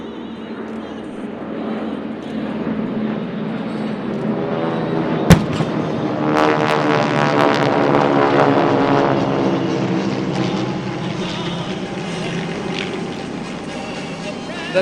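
Vintage propeller aircraft of the Tora Tora Tora group flying past at an airshow in Breckenridge, a steady droning roar that swells in the middle and fades, with a sharp bang near the start and crowd noise and talk underneath.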